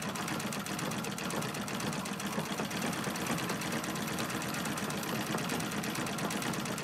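A treadle sewing machine runs steadily, foot-powered after its hand wheel starts it, giving a continuous, fairly loud mechanical whir and rattle throughout with no talking.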